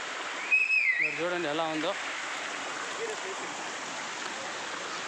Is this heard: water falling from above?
yes